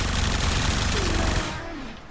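Supra Vandal gun in the Warframe video game fires a dense, rapid stream of shots for about a second and a half, loud and continuous, then cuts off into a trailing echo.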